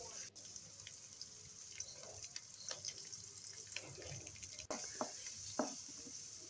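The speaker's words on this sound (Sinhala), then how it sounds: "මම තෙල් ටිකක් ලිපේ තියලා මේ වගේ ලුණු සුදු ලුණු රාම්පේ කරපිංචා මිරිස් දාලා හොඳට ටෙම්පරාදු කරගන්නවා" Onion, garlic, rampe, curry leaves and chili fry in hot oil with a faint, steady sizzle, broken by soft stirring knocks and a couple of sharper clatters, quiet and close with no talk.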